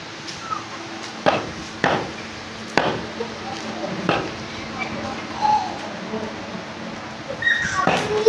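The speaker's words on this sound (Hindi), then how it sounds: "ये रान है जी, रान रान कटी जा रही है, सामने पाया कटा जा रहा है।" Goat leg meat being chopped for Eid al-Adha, with several sharp, separate cleaver strikes spaced irregularly across the stretch over quiet background noise and faint birds.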